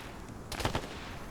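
Gunfire in a PvP shooter match, a quick burst of two or three close shots in rapid succession, loud against a noisy background hiss, no voices.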